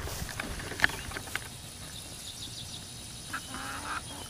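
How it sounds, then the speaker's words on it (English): Chickens in a backyard scurry and give a few faint clucks and squawks, with scattered short calls over low ambient outdoor noise; no talking. "It's a chicken stampede."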